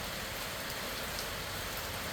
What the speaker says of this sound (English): Nice easy rain. We can always use the rain.